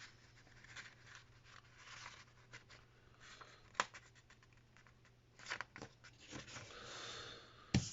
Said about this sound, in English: So we're going to take it and we're going to fold it in half.